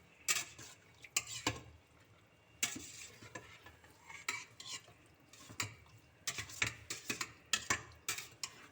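Marinated meat for a Pattani-style beef dish stirred in a pot, giving intermittent scraping and clattering bursts of spoon against metal with a soft sizzle between strokes, close and fairly quiet, with no talk.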